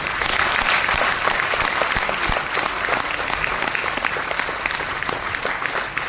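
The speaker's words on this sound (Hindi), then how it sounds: "तो पहले अपने लिए जोरदार तालियां बजा लो।" A crowd at an RCM Business motivational seminar bursts into loud, sustained clapping, dense and continuous with some sharper individual claps standing out, filling the whole stretch without talk.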